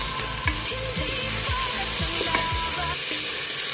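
Ground meat and onions frying in a pan sizzle loudly and steadily, with repeated scraping stirs every half second or so, close up and without talk.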